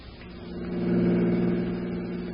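A police car drives up in a radio drama sound effect, its engine rising to a hum and then holding steady at a moderate, close level with no talking.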